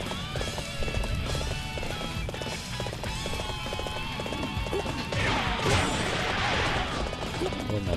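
A horse gallops in the video game Dynasty Warriors 7, a steady rapid clip-clop of hooves running throughout amid battle noise and clashing effects, with a louder crash burst near the end.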